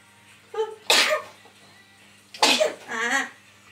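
Two sneezes from a person, each a sharp, close burst preceded by a short intake, the second followed by a brief vocal sound.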